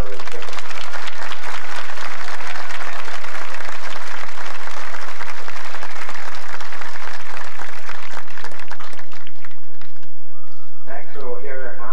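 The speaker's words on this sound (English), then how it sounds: "Let's have a nice round of applause for all of our recipients." A high school graduation audience applauds scholarship recipients, with dense, loud, sustained clapping filling the hall. It fades slightly near the end, where a few voices and cheers come through.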